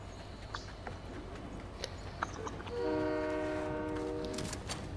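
A train in the Fortnite video game pulls into a station, rumbling faintly before a sustained horn-like whistle tone swells in and holds over a low background.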